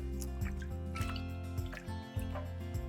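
Wool yarn squished gently by hand in a soapy water bath before natural dyeing, soft wet sloshes and drips, quiet and close, with a steady low hum underneath.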